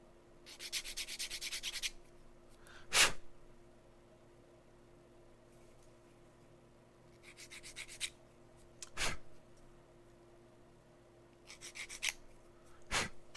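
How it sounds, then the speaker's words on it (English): Millennium Falcon model kit parts being sanded by hand, in short bursts of rapid scratchy strokes. Single sharp taps fall between the bursts, all close and quiet with no talking. "And just sanding this stuff down here."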